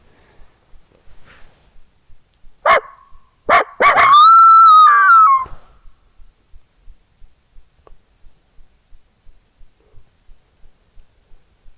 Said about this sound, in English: Coyote howl back there and nothing gobbled.